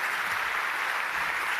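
An audience claps for a panel, a dense, continuous wash of applause with no distinct individual claps and no voices.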